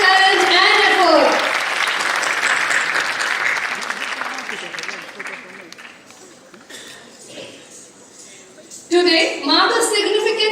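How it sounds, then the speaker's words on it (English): A conference audience gives loud applause after a stage performance. The clapping fades gradually over several seconds, then a voice speaks and a burst of sound returns near the end. "Let's give all her another big round of applause for exceptional talent and effort."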